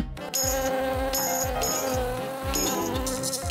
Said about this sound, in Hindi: गलीज मक्खी, मुझे तंग मत करो।